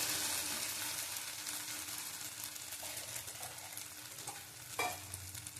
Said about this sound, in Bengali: জল দিয়ে দেবো এবার।